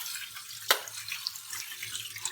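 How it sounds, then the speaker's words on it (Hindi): Water poured over freshly boiled, strained macaroni in a kitchen, a soft steady splash with one brief sharp spatter, fairly quiet and close. "इसके ऊपर थोड़ा सा पानी डालकर ताकि आपस में चिपके ना"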